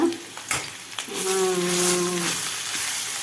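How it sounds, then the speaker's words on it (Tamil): Grated pumpkin sautéing in hot ghee for halwa, a steady close sizzle and crackle that swells after a second and holds evenly to the end, with a few soft stirring scrapes early on. "பரங்கிக்காவா அதை போட்டுட்டு நம்ம வதக்குவோம்"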